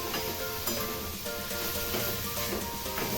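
Radish and chana dal sauté in a pan with a dense, steady hiss of frying oil, close and even, with no one talking.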